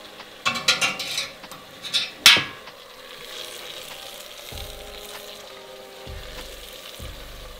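Liquid nitrogen hisses and sizzles as it is poured into the bowl of a PULVERISETTE 11 knife mill for pre-cooling. There are several sharp splashy bursts early on, then a quieter fading hiss.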